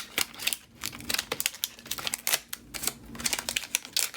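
New cheap dollar-store scissors cutting paper for a junk journal: rapid, crisp snipping clicks close by, coming in quick irregular bursts with no talking.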